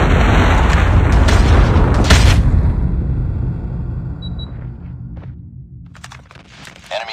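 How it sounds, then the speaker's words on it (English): A Predator missile explosion in the mobile shooter game COD Mobile: a loud, heavy boom that rolls and decays over several seconds, with faint crackling debris near the end. "Friendly Predator missile inbound."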